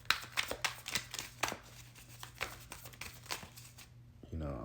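Blood Tarot cards are shuffled by hand in a series of quick, soft papery riffles and flicks close to the microphone, with a faint low hum beneath.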